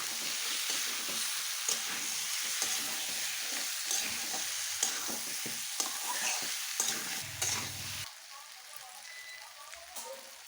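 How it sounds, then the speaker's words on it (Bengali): Fried vegetables are tipped into a pan of cooked-down jackfruit curry masala and stirred, a soft continuous sizzle with scraping spoon strokes, fairly quiet and close. "এখন আমি এই যে যা সব কিছু ভেজে রেখেছিলাম সবগুলো ঢেলে দিচ্ছি। একটু ভালো করে নাড়িয়ে নেব।"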